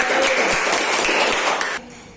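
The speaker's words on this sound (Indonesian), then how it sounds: "Oke, tepuk tangan buat kelompok 1" Students in a classroom clap for group 1 during a teaching-practice lesson, a dense, steady patter of many hands that carries on without a break and then stops abruptly near the end.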